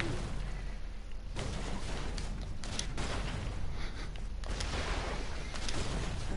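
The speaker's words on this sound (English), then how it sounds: "Everything just explodes" Explosions in the video game Broforce: a dense, continuous barrage of overlapping blasts and booms with no pauses, rumbling and crackling throughout.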